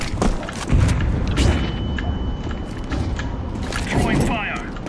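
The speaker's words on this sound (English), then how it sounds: "Grenade." A grenade explosion in Counter-Strike 2 during a competitive match, heard as several deep booming thuds amid constant gunfire and game noise, with a voice calling out over the action.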